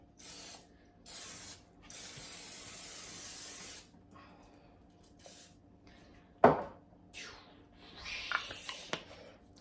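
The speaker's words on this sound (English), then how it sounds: "So I'm gonna go ahead and spray this" Two short hissing bursts from an aerosol can, then one longer spray, followed by rattles and clicks of the can being handled.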